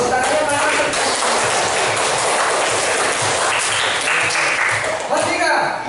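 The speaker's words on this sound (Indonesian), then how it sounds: "Tepuk tangannya mana?" Classroom students applaud in a loud, busy burst of clapping mixed with taps and shuffling, close by and continuing throughout.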